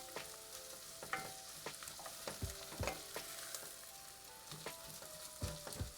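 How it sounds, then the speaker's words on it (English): Onions, broccoli stems and carrots sauté in a pot with a steady close sizzle, broken by repeated scraping and stirring clatters of a utensil against the pot. "We got to give the broccoli stems and the carrots some love, my friends. We're sauteing it all."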